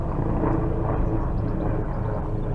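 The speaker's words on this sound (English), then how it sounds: "There's two helicopters flying." A steady low rumbling drone of two helicopters passing overhead, continuous and fairly loud, with no voices.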